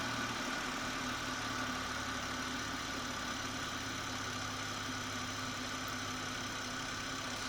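Toyota Supra engine idling, a quiet, steady low hum with a faint even mechanical tone. It sounds smooth and unchanging throughout, with no talk over it.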